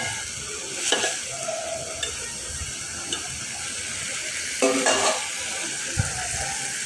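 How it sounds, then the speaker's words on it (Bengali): Potatoes sauté with spices in a pan, a soft continuous sizzle broken by a few scattered scrapes and knocks of a stirring spoon, close but fairly quiet. "ভালোভাবে কষিয়ে নিচ্ছি"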